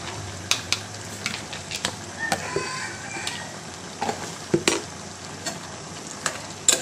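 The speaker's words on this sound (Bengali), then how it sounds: "রসুন বাটা 2 টেবিল চামচ, আর আদা বাটা দিয়ে দিলাম।" Garlic and ginger paste fry in a pan, a soft continuous sizzle broken by sharp clicks and scrapes of a utensil stirring at close range.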